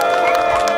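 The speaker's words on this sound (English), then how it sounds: "Let's give a big cheer for junior doctors standing up against this Tory government" A loud crowd at a May Day rally in Coventry cheers and claps for junior doctors, a dense, continuous roar of voices and applause.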